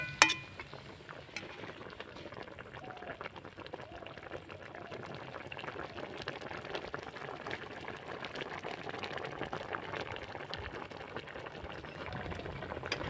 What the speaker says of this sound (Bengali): এবার গুড় জলটা দিয়ে একটুখানি নাড়াচাড়া করে ফুটিয়ে নিতে হবে